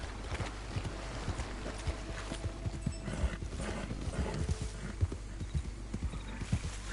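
Horse hooves clop steadily at a trotting pace in Red Dead Redemption 2, with an alligator nearby; the rhythmic thuds run continuously under a soft game ambience.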